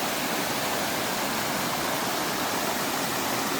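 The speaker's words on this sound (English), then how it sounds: "Water, running water, amazing views." A waterfall pours into running water with a loud, steady, broadband rush that fills the whole stretch without pause and has no speech over it.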